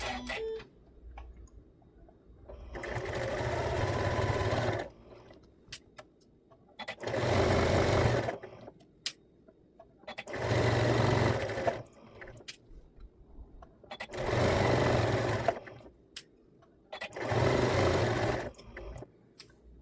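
Domestic sewing machine stitching fabric for a cuddle kit, running in five bursts of two to three seconds each with quiet pauses between, a steady mechanical whir close by with no talking.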